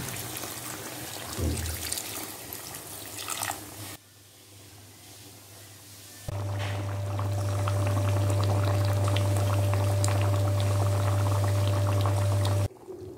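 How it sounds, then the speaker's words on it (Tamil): Water poured from a cup into chicken curry in a pan, a steady pouring, trickling wash near and fairly loud, followed by a continuous bubbling simmer with a low steady hum, no talking. "கொஞ்சமாக 1 கப் அளவு தண்ணி ஊற்றி சிக்கனை கொதிக்க விடுங்க"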